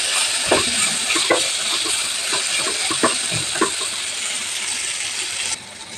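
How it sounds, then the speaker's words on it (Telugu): Capsicum frying in a pan with ginger garlic paste, a steady broad sizzle with scattered clinks and scrapes of stirring throughout, close and fairly loud, with no talking. "అల్లం వెల్లుల్లి పేస్ట్ వేగిన తర్వాత క్యాప్సికమ్ వేస్తున్నానండి."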